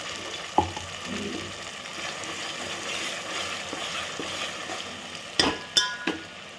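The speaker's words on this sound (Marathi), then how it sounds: "मसाला घेऊ फ्राय करू तेल सुटेपर्यंत परतवायचा" Masala paste frying in oil, a soft steady sizzle with occasional spoon scrapes and a few sharp metallic clinks near the end, close by and without talking.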